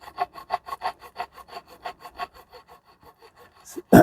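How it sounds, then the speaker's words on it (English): Whetstone rubbed back and forth around a corroded BMW alloy wheel rim makes an even, rasping scrape, about a dozen close strokes in a regular rhythm, ending in a louder knock. "I'm going to use the side of the whetstone that's got that cut into it and"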